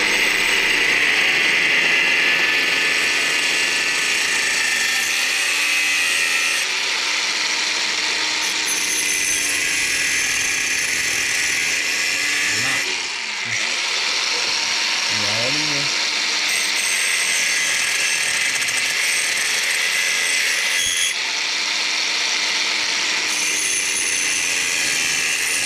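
Hand file rasping against a moped engine piston to lighten it, during a mob-cross engine rebuild: steady scraping strokes in a workshop, fairly loud and continuous, with brief pauses and speech nearby.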